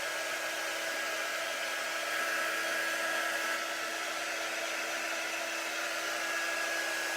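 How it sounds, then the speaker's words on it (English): A hair dryer blows a loud, steady roar without a break, drying printed ink on a shirt on an ink mat. "I dry it with the ink mat in there"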